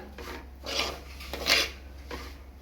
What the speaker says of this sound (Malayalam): മസാലപ്പൊടികളുടെ എല്ലാം പച്ചമണം മാറുന്നത് വരെ ഇളക്കി കൊടുക്കുക.